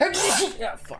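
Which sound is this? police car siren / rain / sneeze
sneeze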